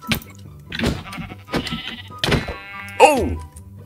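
A Minecraft sheep lets out one clear bleat near the end, following several dull thunks of punching and blocky game sounds, while a player talks excitedly.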